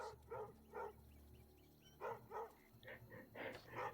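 Puppies in the South of Midnight video game bark and yip in short bursts, pairs of barks with pauses, then a quicker run of yaps toward the end, close and clear over faint background music.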